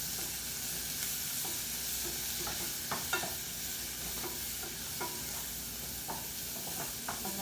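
Green bell pepper (capsicum) curry fries in a pan with a close, even sizzle, punctuated by repeated spoon scrapes and taps as it is stirred, with no talking.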